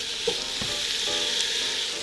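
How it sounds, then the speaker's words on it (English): Chicken pieces are stir-fried in a hot pan for a coconut curry soup, producing a loud, close, steady sizzle with a couple of faint clinks from stirring. "We are going to stir fry this for a minute."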